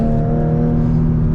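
A Porsche 99 drives a winding Malibu canyon road on Los Flores and Piuma. Its close, steady engine hum with a held tonal whine fills the short moment, with no voices.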